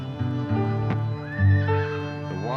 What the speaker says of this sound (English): today hundreds of thousands of horses run wild across the country